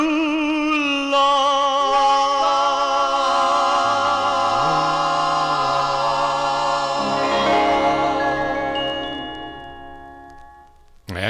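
Closing bars of a 1958 doo-wop record, with sustained vocal group harmonies over backing, ending on a held chord that fades out.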